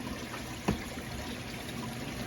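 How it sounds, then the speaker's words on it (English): Water trickles steadily down a waterfall built into a large 750-gallon aquarium, a soft continuous wash with one brief splashy knock partway through, quiet and close, with no voices. "this waterfall's been running for a week, and as you see, there's water up down there"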